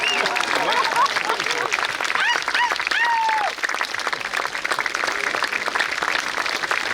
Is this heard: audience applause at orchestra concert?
yes